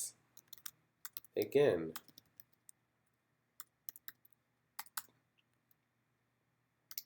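Sparse, quiet computer keyboard typing, scattered clicks in small bursts with pauses, briefly interrupted by a short spoken word.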